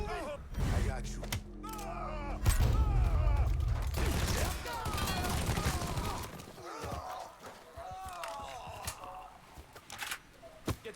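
Gunfire in the video game Mafia III, bursts of shots and impacts layered over game music and effects, with a player talking throughout.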